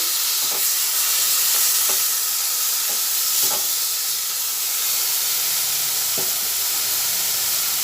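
Soaked ghugni peas fry with coriander powder in a hot pan, a steady hiss and sizzle broken by a few light taps and scrapes of stirring, with no talking.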